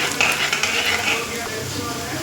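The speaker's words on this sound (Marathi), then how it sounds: "लसूण पण चांगले लाल होऊ द्यायचे मस्त." Garlic frying in hot oil with cumin seeds for a simple pithla, a loud steady sizzle close up with a bright crackle throughout.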